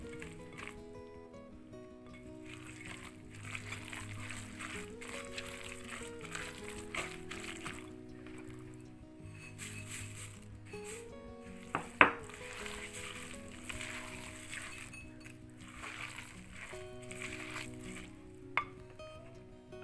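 Oatmeal cookie ingredients being mixed in a bowl make soft, continuous squishing and stirring with scraping strokes and an occasional sharp knock of the utensil against the bowl, close but quiet.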